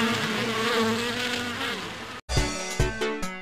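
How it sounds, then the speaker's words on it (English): A bee buzzes with a steady, wavering drone for about two seconds, then cuts off and gives way to a few short tonal sound-effect hits. "Bee buzzes."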